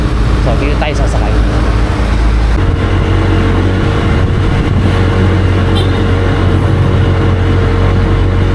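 A motorized tricycle running on the way into Loyola Gardens in Antipolo, with a loud, steady engine drone and road rumble throughout and a shift in engine note partway through.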